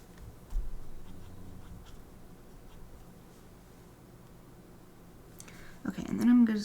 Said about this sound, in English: Doing the really sketchy drawing.